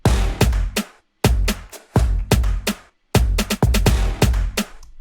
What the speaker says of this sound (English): I also love to layer my stabs.